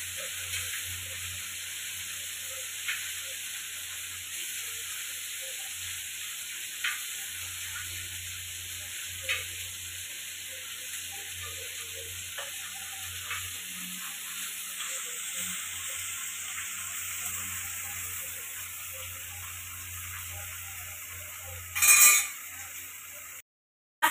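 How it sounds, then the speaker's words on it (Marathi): Whole fish frying on a flat tawa griddle, a steady low sizzle running throughout with scattered small crackles and faint utensil touches, then a brief louder clatter near the end. "सगळी मच्छी आखी तळून घ्यायची तव्यावर."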